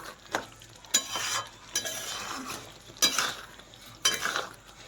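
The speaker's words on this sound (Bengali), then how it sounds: "জলটা শুকনো অবধি ভাজতে থাকবো" A tamarind pickle mixture fries in a pan until its water dries off, with a soft sizzle broken by about five distinct bursts of stirring and scraping from a spoon against the pan.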